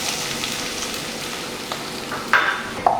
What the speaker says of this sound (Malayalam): ഇനി നമുക്ക് ഇഞ്ചി നന്നായിട്ടൊന്ന് വറുത്തെടുക്കണം